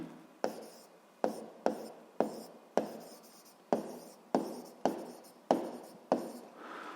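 Pen strokes on paper, about eleven short, sharp scratching strokes in a loose rhythm, close and quiet with no voices.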